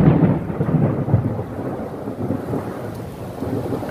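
A steady low roll of thunder carries over continuous rain at a tiger enclosure during a storm, rumbling broadly and fading slightly across the stretch with no voices.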